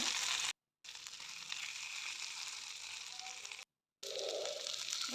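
Sating fish fries in a pan with a steady, soft sizzle, interrupted by two brief silent gaps.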